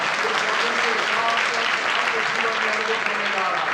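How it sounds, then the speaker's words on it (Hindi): Hands clapping steadily from a congregation at a church ministry service, a dense, continuous wash of applause that fills the whole stretch with faint voices mixed in. "ताली बजा के प्रभु का धन्यवाद करें।"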